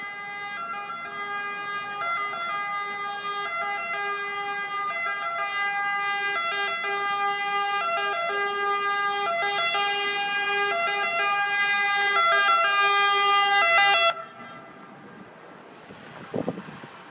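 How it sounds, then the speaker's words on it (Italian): A wailing fire engine siren sounds loud and steady, cycling up and down as it approaches a building fire, then cuts off abruptly, leaving traffic rumble and a brief clatter. "Sta arrivando, vedete, un'altra unità dei vigili del fuoco."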